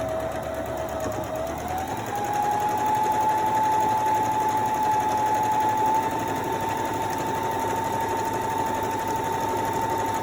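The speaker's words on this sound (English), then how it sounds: "we're gonna straight stitch it again" A sewing machine runs steadily, straight stitching a fabric medical mask. The motor whirs continuously and close, and its pitch rises slightly as the machine gets up to speed after the first couple of seconds.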